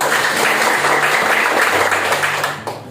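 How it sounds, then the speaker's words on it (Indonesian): A classroom of students applauds, steady close clapping filling the room for a few seconds before tapering off at the end. "Berikan aplaus untuknya."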